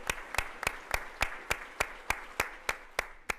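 Applause rises from a fundraising gala audience for donors at the $1,000 giving level, heard as a steady run of sharp, evenly spaced claps, close and clear, with no voices over it.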